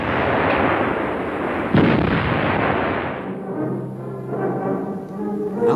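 A German 88 gun firing in the artillery role gives heavy, rumbling blasts that roll into a long fading tail, with one sharper report standing out before the noise dies down.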